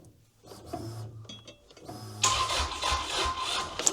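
A Toyota Camry's electric fuel pump runs with a mechanical whirring hum that starts soft and intermittent, then rises into a steadier, louder buzz for the final couple of seconds, heard close up with no talk.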